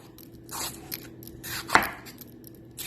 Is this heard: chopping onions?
yes